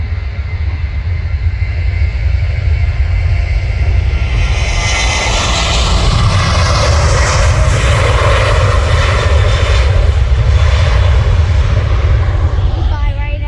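A Ryanair airliner's jet engines roar at Manchester Airport, a loud continuous rumble with a rising whine as the plane moves past, heard outdoors at close range.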